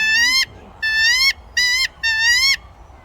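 A person's voice imitates a magpie call with four loud, clear whistled phrases, each rising and warbling, separated by short pauses.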